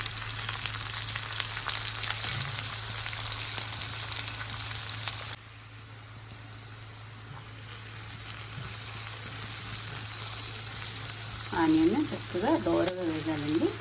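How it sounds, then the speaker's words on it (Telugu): Methi (fenugreek leaf) masala fries in a pan with a constant close sizzle and occasional stirring. The hiss drops slightly partway through, and a brief voice-like sound appears near the end. "కొంచెం బ్రౌనీ ప్లేట్ వచ్చేవరకు వేయించుకోవాలి"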